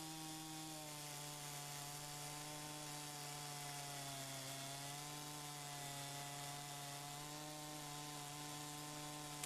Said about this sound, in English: Slide the chainsaw over and hold this angle all the way through the curving cut.